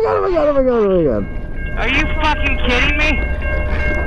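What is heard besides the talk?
train passing by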